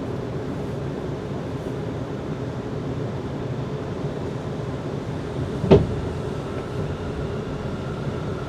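Steady low rumble of a train rolling along the rails, with a single sharp clunk partway through and no voices.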